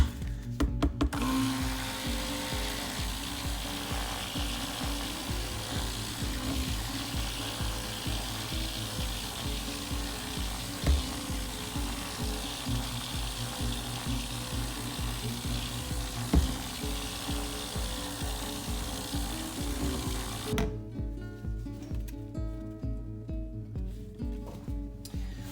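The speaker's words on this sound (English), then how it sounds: "I'm gonna mix it up with the stick blender because we are going to layer this" A stick blender whirs continuously while mixing black cold process soap batter, with a steady buzzing motor and faint scraping, then cuts off near the end, leaving quieter clinks and handling sounds.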